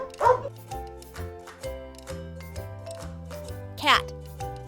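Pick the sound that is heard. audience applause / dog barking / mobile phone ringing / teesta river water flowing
dog barking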